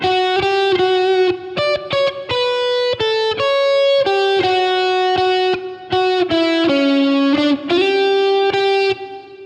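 A distorted electric guitar plays the second line of a rock riff, a run of picked, sustained single notes shifting in pitch with brief gaps, played solo and fairly loud.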